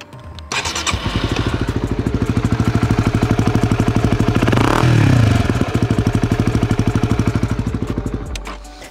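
Honda CB125R motorcycle with an aftermarket exhaust, started up and revved. The engine idles with a steady, rapid putter, swells into a loud rev around the middle, then settles back to idle, close to the microphone.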